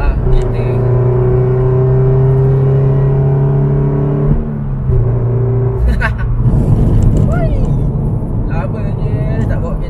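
Car driven on a road in Malaysia, heard from inside the cabin as a steady loud engine hum and rumble, with a person talking over it throughout.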